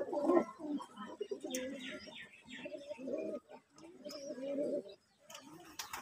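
Domestic pigeons kept at home cooing in a run of several soft, close, rolling calls with short pauses between, a few faint chirps scattered among them.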